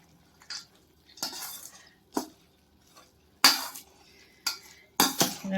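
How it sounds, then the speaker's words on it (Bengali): Spoon clattering and scraping against a bowl in separate bursts while ingredients are mixed for homemade boondi, with quiet gaps between the stirs. "ভালো করে মিশিয়ে নিচ্ছি মেশানো হয়ে গেছে"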